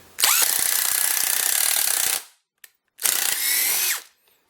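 DeWalt 18-volt cordless drill driving 2.5-inch Robertson construction screws into a 2x4: two loud, close whining bursts of roughly two and one seconds, separated by a short pause with a faint click.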